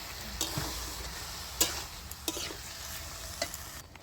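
Stirring a potato and drumstick curry in a frying pan after a little water is added, with a steady sizzle under scattered scraping clicks of the spoon against the pan, close and moderately loud.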